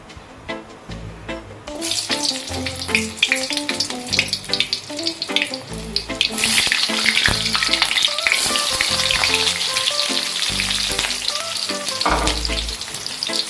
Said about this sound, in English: Now I'm going to cook egg omelette.